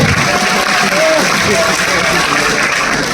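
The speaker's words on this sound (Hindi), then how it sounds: "तालियों में कमी नहीं रही" Audience applause at a Renatus Wellness seminar in Chittorgarh: dense, steady clapping from a crowd that holds at an even level for about three seconds, with a voice faintly mixed in.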